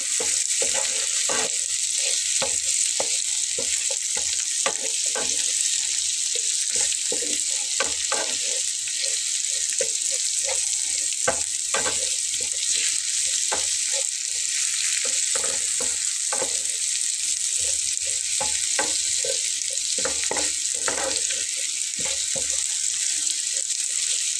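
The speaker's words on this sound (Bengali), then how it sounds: "খুব ভালোভাবে এর সঙ্গে নেড়ে ছেড়ে একদম ভাজা করে নেব।" Radish greens stirred and fried in a pan, a steady bright sizzle with frequent scraping, clacking stirs of a spatula throughout, close and continuous with no talking.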